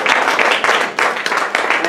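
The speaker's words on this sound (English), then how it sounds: "round of applause for all of you here who are interested" An audience at a lecture on diet and veganism breaks into loud, continuous applause, a dense clapping roar that pulses in waves throughout.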